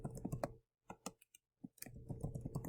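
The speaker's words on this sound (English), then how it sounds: "I'm typing in student heights in centimeters." Clicky computer keyboard typing as student heights in centimeters are entered into an Excel spreadsheet, quick irregular bursts of close keystrokes with short pauses between them.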